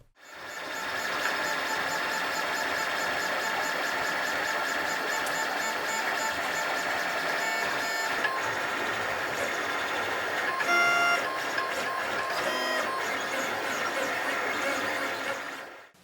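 A 3D printer lays down R2-D2 R6 droid drive train parts flat on its bed, giving a steady whirring, stepper-motor hum with shifting tonal whines, continuous and close for the whole stretch.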